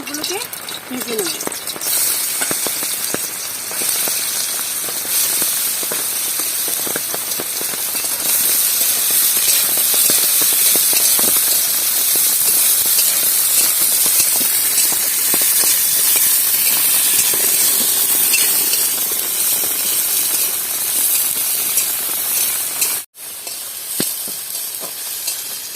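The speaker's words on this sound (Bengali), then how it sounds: "এবার আমি এর মধ্যে গাজরগুলো ভালো করে ভেজে নেব।" Carrots fry in hot oil in a wok with a loud, close, unbroken hiss of sizzling that holds for about twenty seconds, drops out abruptly for a moment, then resumes.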